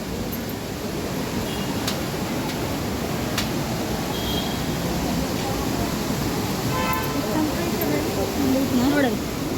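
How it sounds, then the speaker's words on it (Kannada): A river flows near the Kateel Durgaparameshwari temple, making a steady, loud rushing roar that fills the whole clip, while faint voices and a few thin tones drift over the water noise. "ನದಿ ಆವಾಜ್ ಅದ"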